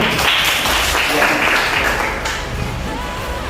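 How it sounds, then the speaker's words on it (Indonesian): Applause fills a classroom during a marketing lesson, dense steady clapping from a group of students that tapers slightly toward the end, with faint voices underneath. "Iya, berikan tepuk tangan"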